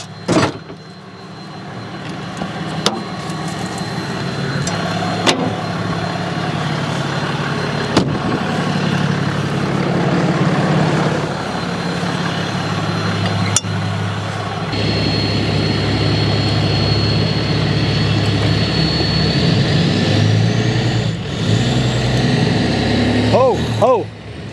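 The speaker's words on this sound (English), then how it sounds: "it's not in neutral, the engine's turning" An International tractor's engine turns over while the tractor is being pulled, giving a steady low mechanical drone with rattles and clanks, loud and close, with people talking over it.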